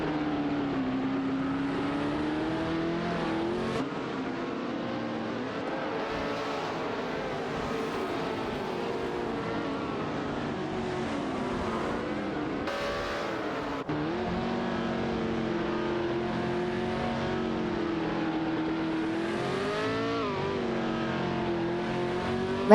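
Race cars in an AI racing video game accelerate and drone continuously, their engine tones rising and falling as they run in a pack, with overlapping revs and steady loud engine noise throughout.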